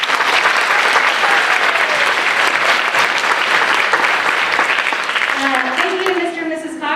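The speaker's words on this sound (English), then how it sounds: "So round of applause for them." An audience at a school spring orchestra concert breaks into dense, sustained applause for the school administrators. The clapping continues at full strength for several seconds, then begins to thin, and a voice starts speaking over it near the end.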